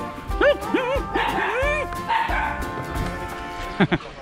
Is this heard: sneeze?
no